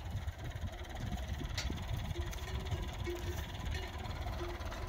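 A tractor engine idles with a low, steady, fairly quiet mechanical rumble, a faint hum sitting over the throb and light knocks in the background.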